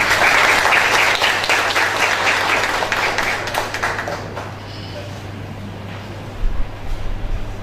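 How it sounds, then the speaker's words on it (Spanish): A conference audience at a higher-education talk breaks into loud, full applause that gradually thins and fades over several seconds, leaving scattered claps and room noise over a low steady hum. "Un fuerte aplauso nuevamente."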